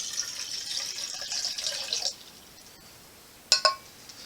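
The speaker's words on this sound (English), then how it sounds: "I'm going to take a cocktail shaker, 6 ounces of room temperature water" Room-temperature water pours into a cocktail shaker in a steady trickling stream for about two seconds, then stops, followed by two short, sharp clinks.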